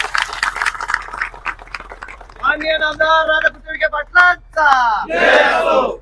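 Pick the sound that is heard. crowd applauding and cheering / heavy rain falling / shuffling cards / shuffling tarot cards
crowd applauding and cheering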